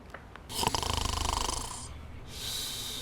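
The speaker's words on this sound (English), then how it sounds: "On a snoring granny." Snoring sound effect for a sleeping granny, one long, loud rattling inhale with a pulsing throaty buzz, then a softer breathy exhale, close up.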